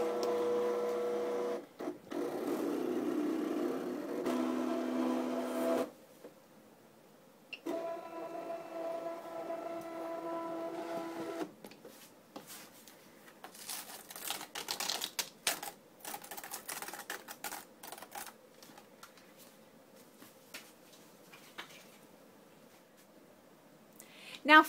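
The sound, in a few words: electronic die-cutting machine cutting paper flower shapes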